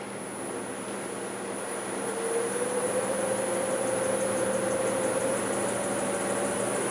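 A wood lathe spins at about 800 RPM, giving a steady mechanical hum with a thin high whine and a tone that climbs slightly partway through. No one speaks.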